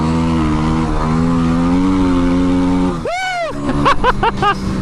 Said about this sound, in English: There's something cathartic about ripping that throttle all the way back and getting that exhaust to roar.